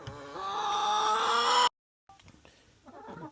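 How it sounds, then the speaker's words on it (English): Hens cackle in a chicken coop, a loud, sustained harmonic squawking that cuts off abruptly. After a short silence come softer clucks and rustling. "What you cackling about?"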